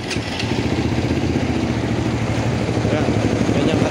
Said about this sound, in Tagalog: start natin kung gaano ka smooth ngayon ang makina nung magamitan ko ng fully synthetic oil